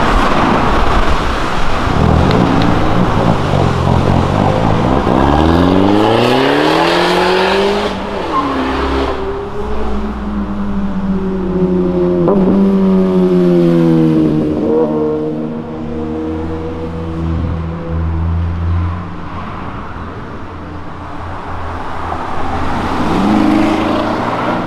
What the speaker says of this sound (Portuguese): um DS3 desse que acabou de passar